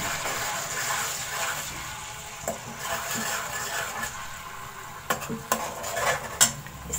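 Ground onion frying in a pan for a chicken masala gravy, with a soft steady sizzle under spoon stirring and a few sharper scrapes and clinks of the utensil against the pan near the end.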